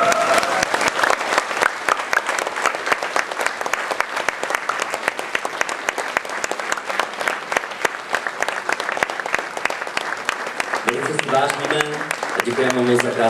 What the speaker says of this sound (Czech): To chce velký potlesk.